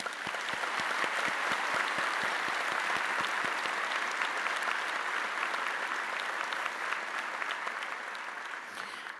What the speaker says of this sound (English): So I want to just ask you to give each of these an applause.